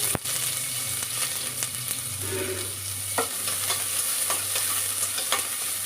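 Chopped big onion with mustard seeds and cumin sautéing in oil over a low gas flame, a steady close sizzle with occasional stirring scrapes and clinks throughout, no talking.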